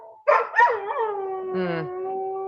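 Several dogs howl together in long, wavering tones, rising and sliding down, with a brief lower yelp partway through; fairly close and clear.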